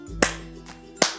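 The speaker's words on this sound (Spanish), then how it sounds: "A ver, todos aplaudan." Two sharp, loud hand claps sound about a second apart in a family-values group activity, with a faint softer clap between them over a quiet background tone.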